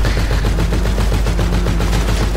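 Rapid bursts of automatic gunfire in the video game Insurgency rattle continuously and loudly, dense overlapping shots with a synthetic, game-like punch and no voices.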